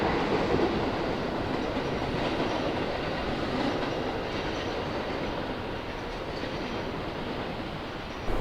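Trains rumble steadily past a balcony in Japan, a continuous close roar of rolling railcars with faint clickety-clack from the wheels, loud and unbroken throughout with no voices.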